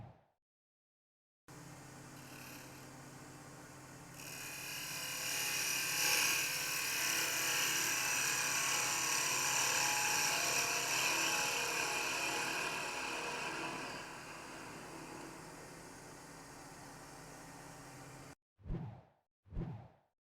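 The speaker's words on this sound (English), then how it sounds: "setting everything up correct with a sharp tool, I was able to cut across the face, eliminate the torn grain, and end up with a very clean piece of wood" A wood lathe with a sharp tool cuts across the face of a wood workpiece, giving a loud, steady whirring and hissing that runs about seventeen seconds, swells in the middle and then stops abruptly, followed by brief faint sounds.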